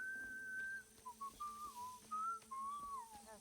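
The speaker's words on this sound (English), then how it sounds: "He's whistling the tango." A game character in Hitman: World of Assassination whistles a tango melody, a clear close tune of sliding held notes over a faint steady background hum, no speech.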